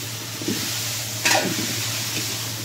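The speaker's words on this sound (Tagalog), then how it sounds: "Gisa na natin guys." Beef steak marinated in soy sauce, pepper and a little sugar sautéing in a hot pan, a steady loud sizzle with a brief stir scrape midway, no talk.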